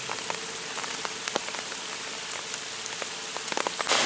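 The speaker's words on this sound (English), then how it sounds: "it's absolutely belting down with rain again" Steady heavy rain hisses down close by beside a pond in Wales, with scattered sharp drops pattering on a surface throughout.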